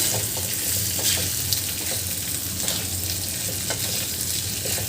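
Potatoes for batata bhaji are stirred in a hot pan, with a continuous sizzle under repeated scraping and clinking of the spoon, steady and close.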